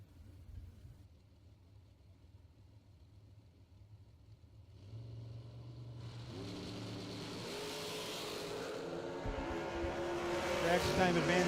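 Drag racing cars, including an FTI dragster, launching at a bracket racing event; a quiet idle gives way to engines building into a loud, rising roar that grows toward the end.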